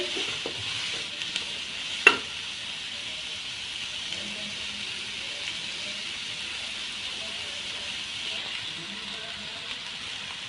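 Chicken with ginger-garlic paste frying in a karahi for chicken makhan karahi, a soft steady sizzle close by with one sharp clink early on, no talking.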